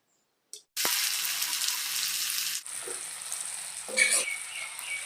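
Mustard oil heating in a pan for homemade Assamese mango pickle, a steady bright hiss of sizzling that cuts out briefly and resumes, close by and without talk.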